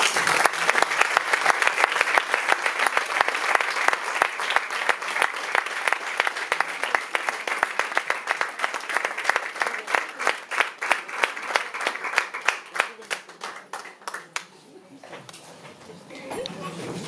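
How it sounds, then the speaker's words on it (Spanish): An audience at a tribute concert applauds a singer and pianist with loud, sustained clapping that thins toward the end, while a voice speaks over it. "Un aplauso para ellos."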